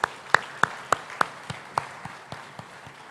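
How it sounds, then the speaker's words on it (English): Applause breaks out at the Africa Prosperity Dialogues 2024 conference, heard as a series of sharp, evenly spaced claps that start loud and fade over a few seconds, with no voices. "Let's have a thunderous round of applause."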